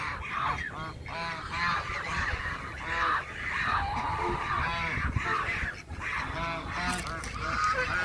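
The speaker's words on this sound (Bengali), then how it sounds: "সুন্দর রাজহাঁস" Geese by a small fish pond honk loudly and almost continuously, with calls overlapping in a noisy, close chorus.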